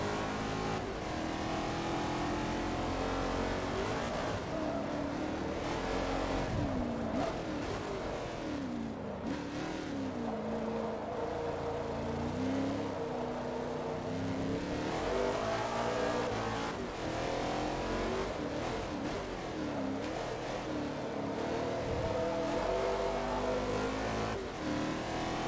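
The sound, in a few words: Ford GT40 and Ferrari 330 P4 race cars, video game Forza Motorsport 2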